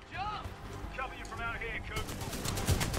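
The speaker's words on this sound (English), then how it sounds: "Let's just shoot these people from this ship." Gunfire in the Titanfall 2 shooter game crackles in a rapid burst alongside a talking voice, with sharp repeated shots building toward the end.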